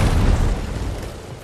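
A thermal detonator blast in LEGO Fortnite Star Wars, a loud, deep booming rumble that sustains and slowly fades, with no one speaking.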